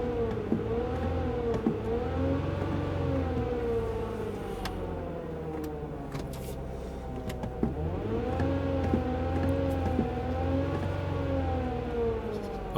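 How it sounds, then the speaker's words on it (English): A Ford Freestyle engine drones steadily, its pitch rising and falling as it revs up twice, with no talking. "I'm gonna rev up the engine a little bit."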